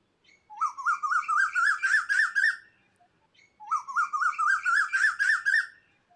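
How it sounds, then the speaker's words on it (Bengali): A cuckoo calls twice: each bubbling phrase climbs steadily in pitch for about two seconds, clear and alone with silence between. "কুকু মানে কোকিল।"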